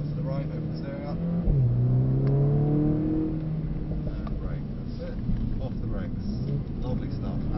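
Mercedes-AMG 45 S car on a handling track at Mercedes-Benz World, engine note rising steadily as it accelerates from the cabin, with an instructor talking throughout.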